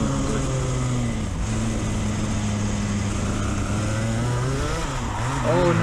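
Racing kart engines, including a passing X30, drone and whine continuously at close range on a track, with pitch rising and falling through the run and a revving surge near the end.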